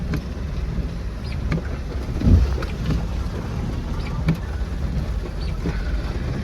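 A car rolling over a badly potholed road, heard from inside as a steady low rumble with occasional jolting thumps, the clearest around the middle.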